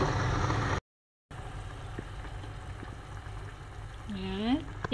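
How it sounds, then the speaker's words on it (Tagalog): A pot of soup with pork bones simmers at a steady boil, giving a low, continuous bubbling hiss after a brief dropout, with a short voice sound rising near the end. "Kumukulo na po ang ating sinabawan."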